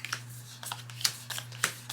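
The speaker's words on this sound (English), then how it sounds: "Then we shuffle the remaining event cards" Event cards from The Haunted Mansion: Call of the Spirits board game are shuffled by hand, giving a few quiet, crisp riffling bursts with short pauses between them, close and soft.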